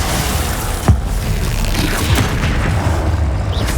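A Confringo spell blast in Hogwarts Legacy, one sharp boom near the start over a continuous dense wash of game noise, with a few smaller crackling hits after it.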